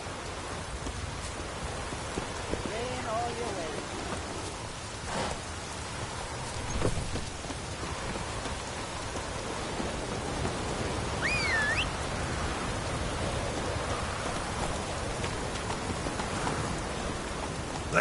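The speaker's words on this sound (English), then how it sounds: "Looks like rain." Steady rain falls in The Witcher 3 on PS4, a soft continuous hiss of drops with faint low rumbles, quiet and unbroken for the whole stretch with no voices.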